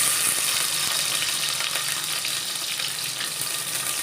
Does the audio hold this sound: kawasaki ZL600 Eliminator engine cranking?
no